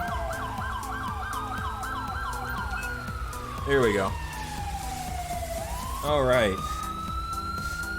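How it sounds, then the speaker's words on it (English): A police siren wails in GTA 5 with the LSPDFR mod, starting with fast yelping sweeps and then a steady tone that slides downward as if winding off. Two brief bursts of talk break in over it. "I'm gonna go turn off my siren."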